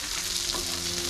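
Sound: bombil (Bombay duck fish) frying

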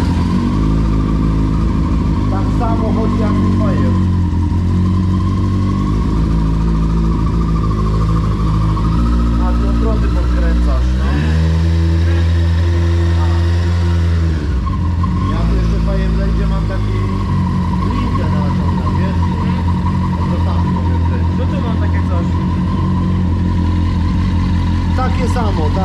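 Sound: Kawasaki Ninja motorcycle engine running

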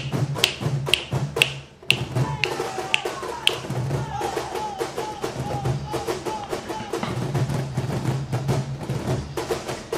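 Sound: cajón drums played in Peruvian music

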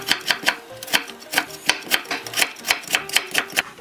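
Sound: knife cutting carrot into thin strips

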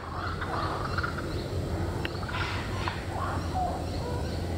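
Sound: kookaburra calling

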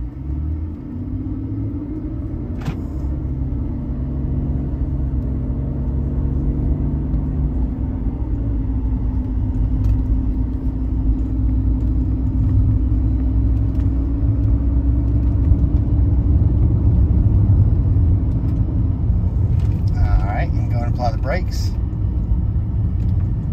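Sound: 2003 BMW 330xi car driving on test drive

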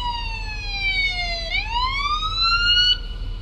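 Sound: police car siren from video game Police Simulator

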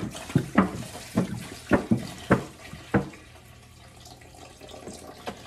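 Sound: water poured into an American pressure canner

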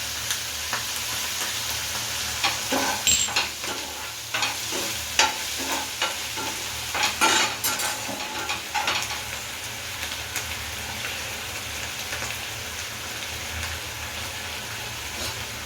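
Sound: sautéing capsicum with soy, chilli and tomato sauce

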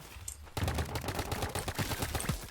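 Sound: paintball gunfire in video game Roblox Big Paintball 2

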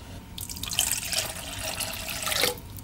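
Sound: water running into mixing bowl while baking bread rolls

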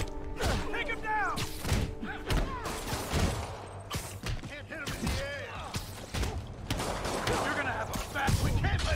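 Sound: gunfire in Marvel's Spider-Man PS4 video game

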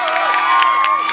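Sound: audience cheering and applause at concert

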